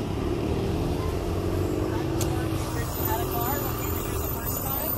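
Street traffic passing on a city walk toward a mall, a continuous loud rumble of vehicles with engine drone and road noise, with someone talking over it.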